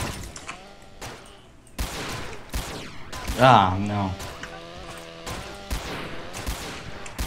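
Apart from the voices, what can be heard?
gunshots at zombies in SA-MP video game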